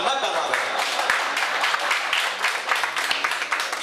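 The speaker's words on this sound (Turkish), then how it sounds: "Onu biz alkışlayalım" An audience claps for a songwriter at a Turkish music event, a loud burst of many hands with distinct sharp claps standing out, and a voice briefly audible beneath it.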